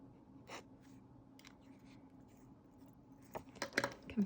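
Faint, scattered scratches of an extra fine Pilot fountain pen nib drawing on paper, a few short strokes growing slightly busier toward the end, heard close in a quiet room.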